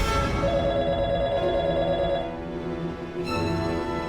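A telephone rings with a steady electronic warble, holding on continuously for about four seconds at moderate loudness with a brief dip near the end, in a quiet indoor room with no talk.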